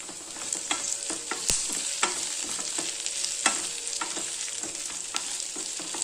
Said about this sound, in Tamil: இந்த வெங்காயம் வதங்கிறதுக்கு கொஞ்சம் உப்பு போட்டுக்கலாங்க.